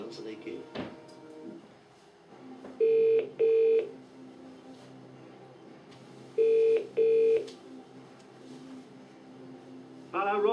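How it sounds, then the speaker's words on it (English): Phone-a-friend dialing in the PS1 game Who Wants To Be A Millionaire 2nd Edition: two pairs of clear electronic touch-tone beeps, evenly spaced, over a low hum, with a brief voice at the start and another sound at the end. "let's phone a friend and see what happens"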